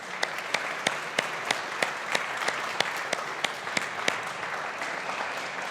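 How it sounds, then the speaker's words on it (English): Audience at a business school graduation ceremony claps steadily, a dense wash of applause with a few sharp, distinct nearby claps standing out at a regular pace throughout. "give our families, friends and supporters a big round of applause for their help and assistance"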